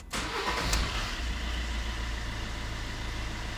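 A car engine starts up after an oil warning reset, catching abruptly and settling straight into a steady, loud idle with a slight rev near the start.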